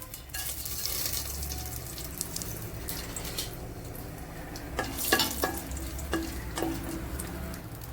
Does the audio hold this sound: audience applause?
no